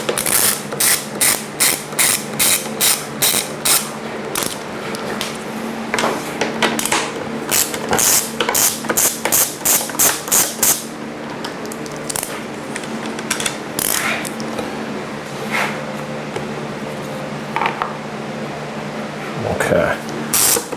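Rapid ratchet clicking in repeated bursts as two bolts are backed out of the TFT display mount on a KTM 790/890 motorcycle, close and loud, with scattered handling clatter and brief talk in between.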